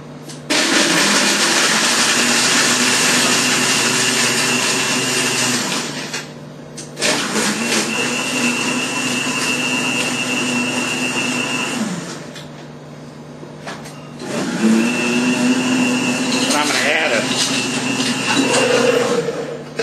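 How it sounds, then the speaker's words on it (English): A blender crushing ice for a margarita roars at full power in three long bursts separated by short pauses, loud and close with no talking. "Blender."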